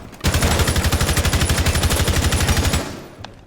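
Rapid automatic gunfire from a competitive shooter match, a long continuous burst of evenly spaced loud shots aimed at a hard wall, ending abruptly with a faint click after.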